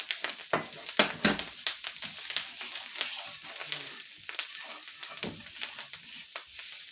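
Onions sizzling and frying in a pan with ground beef for Cuban picadillo, a steady crackle with sharp stirring clicks and scrapes, close and moderately quiet, no talking.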